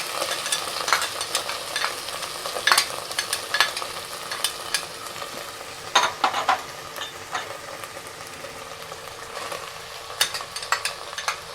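Onion, ginger paste and tomato fry in a pan for a chicken dish, a close sizzle broken by sharp spatula clicks and scrapes of stirring, with no talk.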